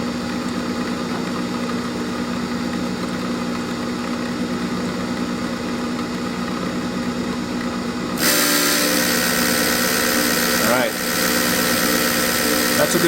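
A grinder bites into metal and throws sparks, joining a steady motor hum partway through with a brighter, louder grinding roar that continues to the end, close by.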